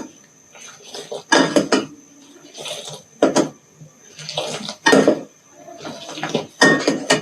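A whisk or spoon beats Kashmiri pink tea in a metal pot, giving repeated bursts of clattering and sloshing roughly every second, fairly close and loud with quiet gaps between strokes.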